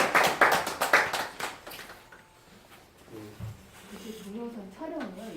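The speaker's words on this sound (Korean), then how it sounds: "하나님께 박수를 한번 드리겠습니다" A church congregation claps hands together during a worship service, a burst of rhythmic, fairly loud claps over the first two seconds that dies away, followed by quiet room sound and faint voices.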